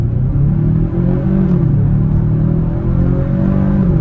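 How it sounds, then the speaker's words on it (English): A 2023 Kia Stinger GT-Line pulls hard from a standstill in sport mode, its engine holding a loud, steady, close rumbling drone with rising harmonic tones throughout, no talking. "We're not gonna brake boost it or anything, but just on the gas"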